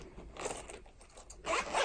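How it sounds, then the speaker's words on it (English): A zipper on a colored pencil case is pulled open in a few short, close, scratchy runs, with a brief pause before a louder final pull. "And if I can get the zipper."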